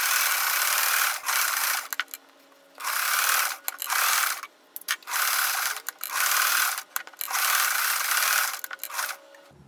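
A sewing machine zigzag-stitches fabric scraps and shreds in bursts of about a second each, with short pauses between runs of stitching, loud and close.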